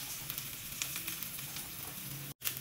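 Onion and garlic sauté in a hot pan with a continuous close sizzle and light crackling pops, briefly cutting out near the end before resuming, with no talking.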